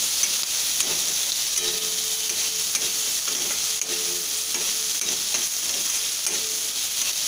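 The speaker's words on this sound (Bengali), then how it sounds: "এবারে ভালোভাবে মশলাটাকে কষিয়ে নেবো" A spice mix of turmeric, red chilli powder, a little sugar and salt sautéing in a wok, with a steady close sizzle and scraping stirs recurring throughout, no talk.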